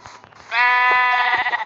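Sheep in Minecraft Pocket Edition bleat in one loud, sustained, wavering cry up close, preceded by a few soft game sounds.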